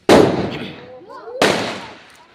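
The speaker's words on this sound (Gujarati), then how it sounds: "જો ફટાકિયા ફોડે છોકરા" Two sharp firecracker bangs burst during Diwali celebrations, more than a second apart, each with a bright crack and a lingering crackling decay; a faint whistling tone rises between them.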